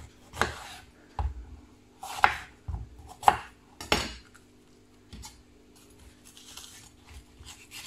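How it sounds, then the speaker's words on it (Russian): A kitchen knife slices bell pepper into strips on a cutting board for homemade sushi rolls, giving a series of separate, fairly close chopping knocks and cuts at an uneven pace, with no voices. "Перец нарезаем соломкой."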